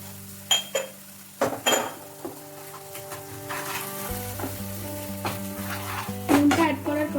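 Masala with salt for paneer tikka sizzles steadily in a pan while a spoon scrapes and knocks against it in a few sharp strokes, close and clear, with a low steady hum underneath.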